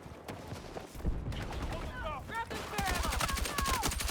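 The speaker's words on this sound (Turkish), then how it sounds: "Ve bugünkü silahımız da e, SG-553. Bu da bayağı güçlü bir silah." SG 553 assault rifle fire in the Battlefield 6 shooter, rapid gunshot bursts building toward a dense fusillade in the latter half, layered with busy battlefield game effects.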